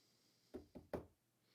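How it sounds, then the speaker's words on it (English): Three sharp knocks on a floor come in quick succession, close and distinct, the last one loudest, against a near-silent background. "I'm gonna knock on the floor,"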